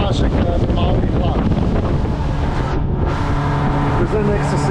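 Wind gusts buffet the microphone aboard a sailboat off Uligan in the Maldives, a loud steady rumble with brief lulls over water and hull noise, and people talk underneath.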